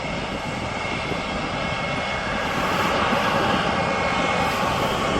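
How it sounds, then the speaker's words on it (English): A passenger jet taxiing at Birmingham Airport gives a loud, steady engine roar and whine that swells slightly, heard from a distance with no talking. "The Alicante flight just turned into the taxiway"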